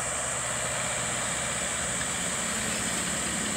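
A four-cylinder Mahindra 475 tractor engine of about 42 horsepower runs steadily at close range, a continuous loud low rumble with a droning hum and no talking.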